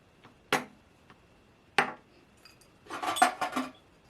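Small brass and copper trinkets, one shaped like a little kettle, are handled in a few sharp metallic clinks and taps, close and fairly loud, ending in a short cluster of rattling knocks without talk.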